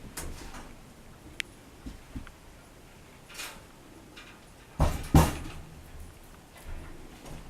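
A metal humane animal trap has its door shut and locked, giving a couple of sharp metallic clanks near the middle amid quieter scattered clicks and rattles, heard close up with no talking.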